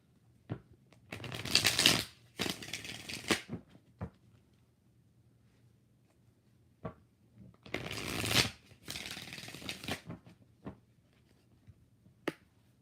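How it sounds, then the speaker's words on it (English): Tarot cards riffled and shuffled up close in quick papery bursts, two clusters of flapping, snapping card sounds separated by quiet gaps with a few soft taps. "We're going to start shuffling."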